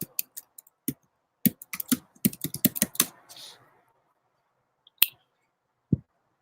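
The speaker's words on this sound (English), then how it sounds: "Thought I typed that in right." Quick bursts of keystrokes clatter on a close computer keyboard, a rapid run of taps followed by a pause and then a couple of isolated single key presses.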